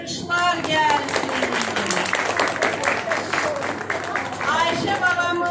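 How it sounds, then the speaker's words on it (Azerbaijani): Audience applause for a two-year-old girl at a memorial gathering, a warm burst of clapping from a crowd mixed with overlapping voices and occasional cries. "Mən xahiş edirəm Ayşə üçün bir gözəl alqışlar gəlsin"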